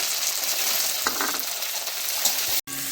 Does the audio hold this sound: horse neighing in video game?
no